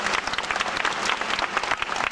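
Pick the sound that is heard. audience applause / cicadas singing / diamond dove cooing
audience applause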